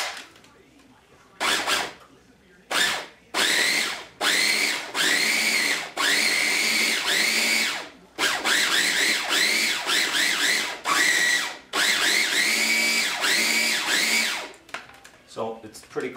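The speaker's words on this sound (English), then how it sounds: "put them in your food processor. Then I'm going to pulse it until they're semi-finely ground." A food processor pulses crab cake ingredients toward a semi-fine texture, loud motor whirring in a dozen or so bursts of varying length separated by brief silences, with pitch rising as each pulse spins up.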